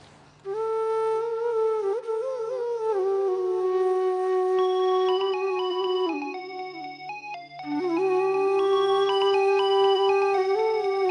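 An electronic ringtone melody plays on and on, steady and fairly loud, with no voices.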